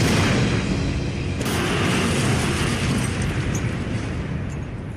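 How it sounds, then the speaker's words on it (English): A continuous roar of World War II explosions and rumbling blasts in the Battle of Caen, loud and dense, with a sharp burst partway through and no voices. "Explosions are taking place all over the town."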